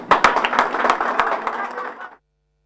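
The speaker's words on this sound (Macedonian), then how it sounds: "Беше и проследена со аплауз оваа негова изјава." A crowd of political supporters applauds a speaker's statement, with dense, steady clapping that fades and stops abruptly after about two seconds.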